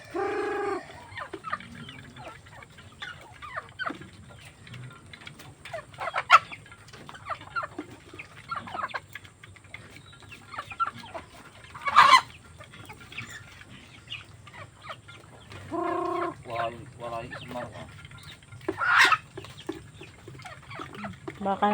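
Chickens cluck and squawk in scattered, irregular bursts while being fed at close range, with quiet voices talking now and then in the background.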